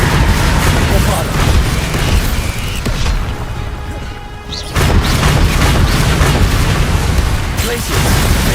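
The Bombarda explosion spell in the video game Hogwarts Legacy: loud, dense booming blasts and crashing debris up close, dropping briefly in the middle before another heavy burst, with a voice talking over the din.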